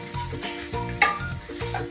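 Coconut, chillies and coriander are dry-roasted in a pan without oil, stirred in quick rhythmic scrapes with a faint sizzle and a single metallic clink midway.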